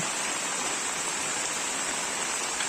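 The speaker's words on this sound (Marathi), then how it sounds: "मध्येच पाऊस आला बघा" Steady, dense rain hissing down without a break, a broad even wash of drops with no voices.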